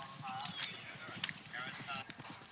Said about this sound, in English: And horse and rider must maintain an average speed of 21 miles per hour.